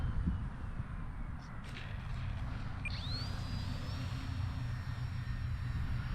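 A Durafly Ugly Stick V2 RC model plane flies outdoors, its propeller engine a steady drone at moderate distance, with a faint rising whine partway through.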